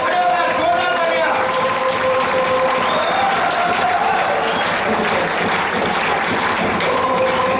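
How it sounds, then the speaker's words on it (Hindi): A seminar audience on its feet gives a long, loud standing ovation, with dense continuous clapping and crowd noise holding steady throughout, and faint voices mixed in. "खड़े होकर जोरदार तालियां।"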